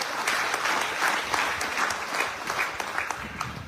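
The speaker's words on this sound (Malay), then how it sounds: "Satu tepukan gemuruh untuk beliau." An audience at a political rally in Kuala Nerus, Terengganu applauds a speaker, sustained dense clapping with slight swells, fairly loud and continuous with no talk over it.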